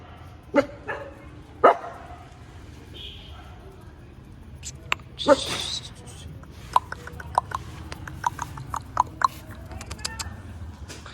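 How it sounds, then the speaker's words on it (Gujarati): Street dogs in a residential neighbourhood bark in scattered bursts, a few sharp woofs early, then a quicker run of yaps, some near and some farther off. "જો મિત્રો અમારી સોસાયટીના કૂતરા"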